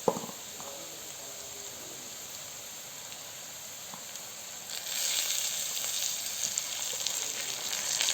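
Diced tomatoes hit a hot pan of aloo bhujia, and the steady low sizzle jumps into a louder, broader hiss about halfway through that holds to the end with no talking.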